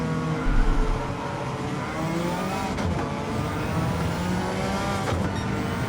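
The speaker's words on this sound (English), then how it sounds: "Fifth gear, we're going to pull the rev range in fifth." A Suzuki Escudo race car in Gran Turismo 7, the Le Mans WTC 700 build, holding fifth gear as its engine drones loudly and climbs steadily through the revs, one continuous near roar with no talk.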